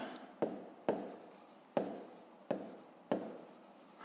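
Handwriting on paper during a fifth-grade maths lesson: five distinct scratchy pen strokes, each a sharp onset trailing off, spaced about half a second to a second apart, close and fairly quiet with no talking.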